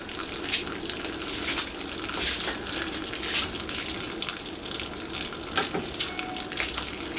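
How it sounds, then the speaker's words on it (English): Liquid trickling out of a home-brewing tank while brewing an all-grain Double IPA, a soft steady watery splash and gurgle with small irregular spatters, fairly quiet and without talk. "it's just trickling"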